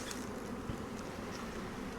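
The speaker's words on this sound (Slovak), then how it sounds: "že tie včelky sú pekne pokojné" Honey bees buzz around an open hive frame, a dense, steady drone of many insects with a few louder passes near the microphone, fairly faint and with no talk.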